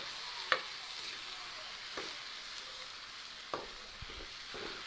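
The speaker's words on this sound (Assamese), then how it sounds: "অলপ সময়ৰ কাৰণে ভাজি দিছোঁ" Potatoes frying in a kadai while being stirred, a soft continuous sizzle broken by a few sharp spatula knocks and scrapes, faint and near.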